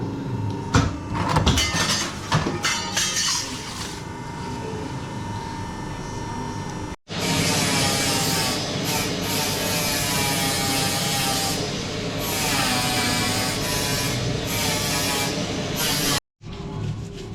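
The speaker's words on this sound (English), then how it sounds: "it's belt sanding grind time" A belt sander grinds metal during rust repair on a car, continuously and loudly, a harsh steady roar with brief cutoffs, preceded by clattering shop noises.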